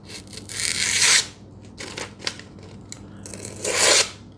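A sharp Benchmade knife slices through paper in three close crisp cutting strokes, each a loud brief swish separated by short pauses.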